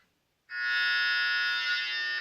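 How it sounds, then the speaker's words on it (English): A single loud, flat electronic game show buzzer on The Price Is Right sounds after a brief silence and holds steadily for nearly two seconds before cutting off. "when she pressed the buzzer to see if she was right"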